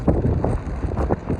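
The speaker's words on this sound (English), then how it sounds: "it's pretty windy out here" Strong wind buffets the microphone outdoors at a snowy Arctic car park in Lofoten, a loud continuous rumbling roar with gusty low-frequency thumps.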